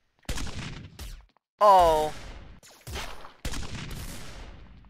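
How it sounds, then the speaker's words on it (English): Rocket launcher in the Galacticus Wars video game fires in sharp bursts with gaps between, one louder blast near the middle, while a voice exclaims between shots. "Oh, it's a rocket launcher."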